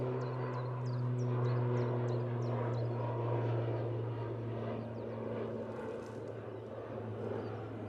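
An ATR 72 turboprop airliner departs Manchester Airport for Belfast, giving a steady droning engine hum with a strong low tone, heard alone at moderate distance, while a bird chirps repeatedly at the start.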